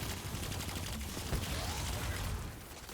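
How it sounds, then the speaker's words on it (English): A linear fusion rifle firing in the shooter game Destiny 2, heard as a dense, continuous wall of loud, crackling weapon noise with sharp bursts layered through it, easing slightly at the end. "Hit some linear fusion, and then I'm going to swap to my auto rifle to prevent healing."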